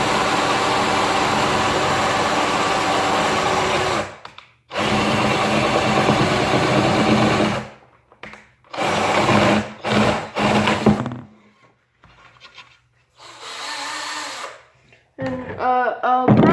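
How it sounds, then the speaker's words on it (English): Electric drill run in bursts on a workbench, a loud whirring motor switching on and off several times, with short pauses and a brief higher-pitched rattle near the end. "I'm just messing around with my drill right now"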